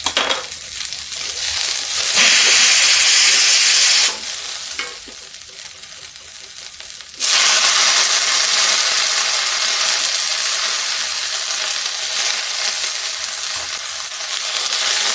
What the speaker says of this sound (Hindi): प्याज भी भूनते हैं। गैस को कर देते हैं तेज।